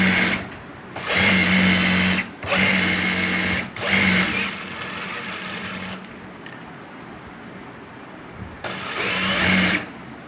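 Sewing machine stitching a men's shalwar without kalli, close whirring runs in several bursts of one to two seconds each, with short stops between them and no voices.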